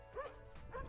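Two quick, faint barks from a dog in a small town in southern France, a little distant, with a short gap between them and outdoor background noise around.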